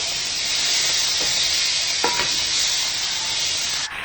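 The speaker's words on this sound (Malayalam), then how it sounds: "ഇനി ഇതിലേക്ക് ചേർത്ത് കൊടുക്കാം. ഇത് നല്ലോണം ഒന്ന് മിക്സാക്കാം." Chopped bitter gourd stirred in a hot pan, a steady loud sizzle with a few clinks of a spoon or spatula scraping through it, alone without talk.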